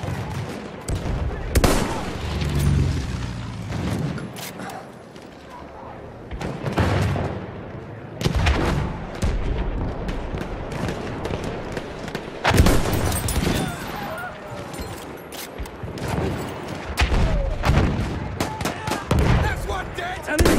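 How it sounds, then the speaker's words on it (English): Machine-gun bursts and rifle shots crackle in Battlefield 1, the rapid fire loud and dense in repeated volleys across the stretch, with brief lulls between bursts and a voice calling out amid the gunfire. "An enemy machine gun!"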